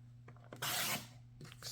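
A paper trimmer blade slides once through a sheet of cardstock, cutting it in half: a close, dry rasping swipe lasting about half a second over a faint steady hum, with quieter rustles before and after. No talking.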